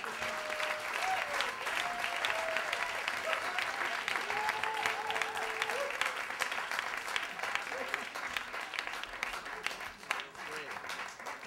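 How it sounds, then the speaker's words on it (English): Sustained, even applause from an audience after a spoken performance, a dense wash of clapping lasting the whole stretch with a few faint voices and cheers mixed in. "A round of applause for Johanna."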